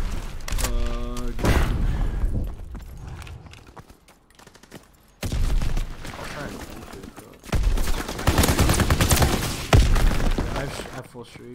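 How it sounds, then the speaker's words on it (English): Bursts of gunfire crackle and boom during a video game gunfight, loud and repeated in rapid volleys separated by quieter stretches, with a player talking in between. "if you would see some of these gunfights"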